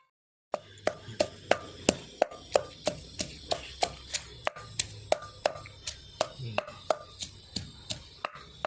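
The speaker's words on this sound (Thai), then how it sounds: "เนื้อยังกำลังตำกระเทียมใส่ครับ" Garlic being pounded for Isan cooking, about sixteen sharp, evenly spaced knocks at a steady rhythm, close and clear after a brief silence.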